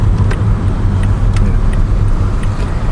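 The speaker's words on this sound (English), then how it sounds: "now traffic is good. See, traffic starting to slow down" Morning road traffic on the drive from Ampang to Cochrane sounds as a loud, steady roar of cars, with faint higher noises from nearby vehicles scattered through it.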